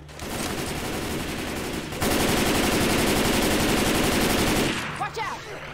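A big machine gun fires in Left 4 Dead 2, a dense, rapid, continuous burst that grows louder partway through and then cuts off, leaving fainter game sounds.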